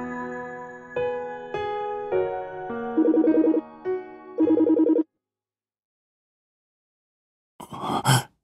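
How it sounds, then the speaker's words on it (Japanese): A phone ringtone plays in a Project Sekai game story scene: a bright melodic tune of repeated notes for about five seconds, then silence, followed by a brief breathy vocal sound at the end. "こんな時間に電話。"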